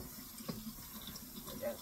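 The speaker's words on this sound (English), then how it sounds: "Get my dish water made." Tap water runs steadily into a sink to fill dish water in a home kitchen, a soft continuous splashing flow close by, with faint movement noises over it.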